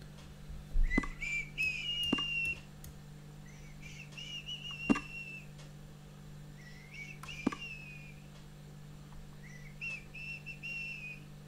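Someone whistles a melody in about five short phrases spaced a couple of seconds apart, thin and moderately close, broken by occasional sharp clicks.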